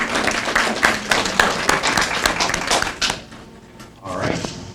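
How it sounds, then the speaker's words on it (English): Audience applause at a legislative listening session for school board member Edward Burrows, a burst of uneven claps from a modest crowd that thins out, then a brief voice and a few more claps. "Give him a round of applause"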